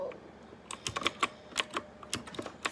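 A Redragon computer keyboard clicks under irregular typing, a quick run of sharp, fairly close keystrokes with short pauses between them.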